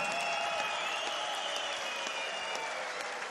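A crowd at a fight event applauds the fighters after the bout, steady dense clapping filling the whole stretch at an even level.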